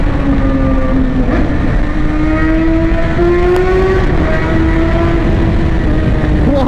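A 2018 BMW S1000XR motorcycle with its factory exhaust revving up close, a loud, throaty engine drone whose pitch rises and falls throughout, with no speech.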